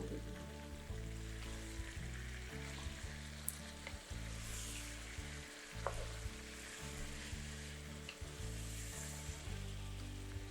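Ginger garlic paste sizzles and crackles loudly in hot oil with frying chicken for a spicy chicken korma, a continuous hiss with occasional stirring scrapes and clinks.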